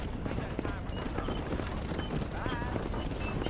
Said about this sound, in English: Slow these horses down.